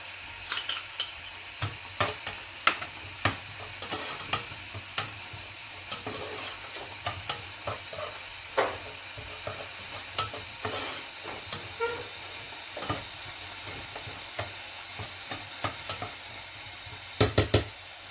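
Sugar is stirred in a pan to caramelize plums with a cinnamon stick, giving repeated sharp scrapes and taps of a utensil against the pan over a faint low sizzle.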